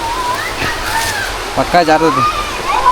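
A waterfall along the path to a hilltop temple in Karnataka gives a steady background rush and splash while someone talks over it up close.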